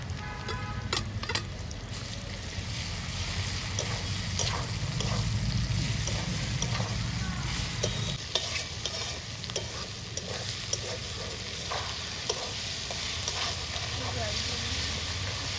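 Onions fry in a pan as ginger and garlic paste go in, a continuous loud sizzling hiss with sharp spatula taps and scrapes scattered across it, close up.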